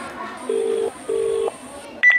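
A telephone is dialed in a school skit, with two long, steady keypad tones followed by a short higher electronic beep, heard fairly clear over faint room noise.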